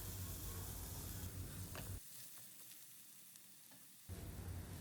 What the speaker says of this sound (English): now we will stir fry them along with the mushrooms so that the flavors of onion, ginger, garlic are well incorporated with the mushrooms